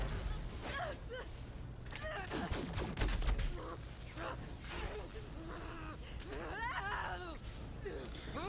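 Gunfire in Borderlands 3 as the player character Amara shoots herself, with repeated shots and game effects through the clip, mixed with sustained speech-like sounds and game audio.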